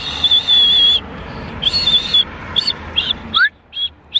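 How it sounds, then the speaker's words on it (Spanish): A person whistles high, clear tones: one long held note, then a series of short chirpy whistles and a quick rising slide. "Silba."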